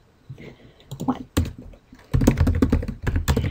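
Computer keyboard typing in close, quick bursts of clicks, starting sparse and then turning into a dense, loud run of keystrokes with brief pauses.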